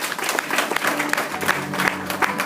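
A church congregation applauds together in sustained, fairly loud clapping with crowd texture, a steady rhythmic wash of hands filling the space without spoken words.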